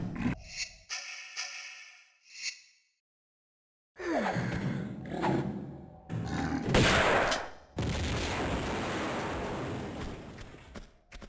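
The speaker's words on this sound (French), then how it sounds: "On va vider notre fusil, hein, tant pis." Rifle gunfire in the Tomb Raider II video game: a few sharp shots near the start, a short silence, then bursts of loud blasts and crashing game sounds with no talk.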